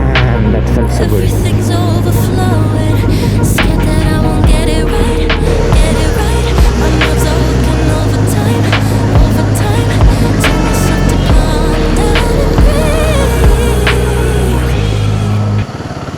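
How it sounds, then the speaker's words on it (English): A motorcycle ridden in heavy rain, loud and close, with a steady engine drone shifting in pitch as the bike changes speed, under broadband wind and rain noise throughout. "I like to ride bike in rain."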